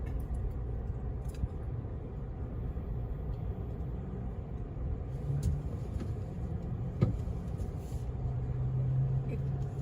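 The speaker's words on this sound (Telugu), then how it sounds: "మా ముందు ఒక ట్రక్ వెళ్తుంది." Low, steady vehicle rumble with engine hum close by while a truck moves ahead in an automatic car wash lane in Austin, with occasional faint knocks and brief clicks over a continuous drone.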